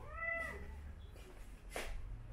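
A house cat meows near the microphone in a home, a single rising and falling cry near the start followed by a softer second call, over low room noise.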